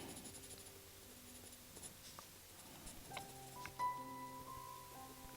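A 4B mechanical pencil scratches steadily across paper, soft and close, in short strokes over a faint electronic hum with a few quiet tones.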